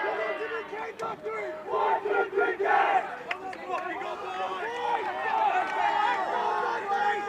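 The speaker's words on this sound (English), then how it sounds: "big boys cheering on already from the start" Rugby players roar together in a pre-match huddle, a loud chorus of overlapping shouts and chanting voices rising and swelling close by.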